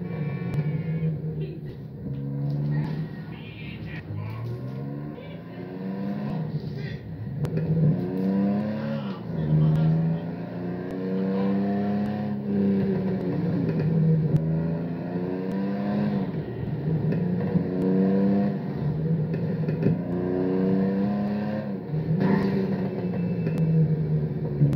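A car engine in GTA 5 revs up and drops back repeatedly in rising and falling sweeps. The revving is moderately loud and runs steadily under a person talking.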